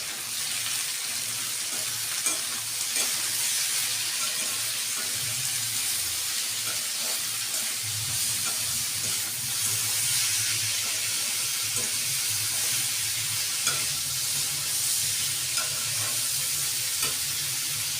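Salted food being stirred in a hot pan, with a steady sizzle and scraping over a constant broadband hiss, a few louder stirring strokes standing out through the whole stretch.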